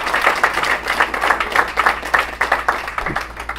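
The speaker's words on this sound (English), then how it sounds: "give them all a big round of applause" Steady applause from a crowd at the Democratic National Convention, a dense wash of clapping that holds at an even level throughout without dying down.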